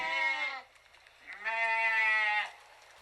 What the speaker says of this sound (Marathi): कोणाची हे रे बकरी हा बांधा बरं तिला